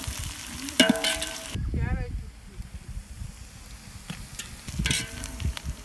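Green chillies, mint and coriander dropped into a hot pan for village-style chicken dum biryani, with sizzling and stirring at the start and end, a quieter stretch between, and a brief voice in the middle.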